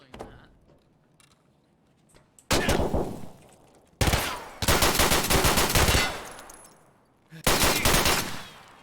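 Rapid automatic gunfire in a video game rips out in several loud bursts, one long and a few shorter, separated by quiet gaps.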